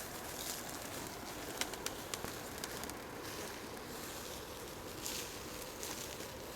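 Low pigeon coos sound against a soft outdoor background, along with scattered light taps and rustles.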